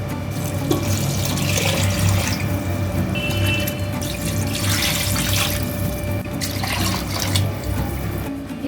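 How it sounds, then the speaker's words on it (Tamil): Water pours steadily into a pressure cooker of chicken biryani in a home kitchen, a continuous close splashing stream with no talk over it. "இப்போ தேவையான அளவு தண்ணி சேர்த்துக்கலாம்."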